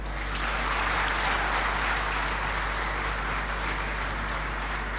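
An audience applauds after the President's address at the Golden Jubilee celebrations of the Mahatma Gandhi Institute of Medical Sciences. It is a continuous, muffled wash of clapping from a large hall, with a steady low electrical hum beneath it.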